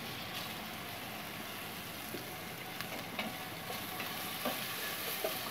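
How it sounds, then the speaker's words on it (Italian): Lamb trimmings fry in olive oil in a pot, giving a steady close sizzle with faint crackles and small pops throughout, no talk over it. "E facciamo soffriggere e andiamo avanti."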